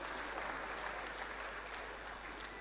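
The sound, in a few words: audience applause for Bendel Insurance FC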